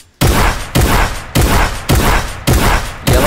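Six loud, close blasts from a new rapid-fire Fortnite shotgun follow a brief silence at a steady quick rhythm, each a sharp crack with a short tail, with no voices.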